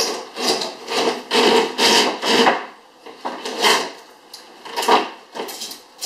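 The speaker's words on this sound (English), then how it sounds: "We fished the cable in, and we're almost done." A TV cable is pulled and fished through the inside of a wall, giving a series of rhythmic, close scraping and rubbing strokes against drywall and wood framing, about a dozen rasping pulls with short pauses between.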